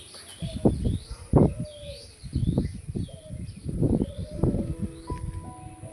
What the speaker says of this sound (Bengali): সো এখানে কবুতর দেখতে পাচ্ছেন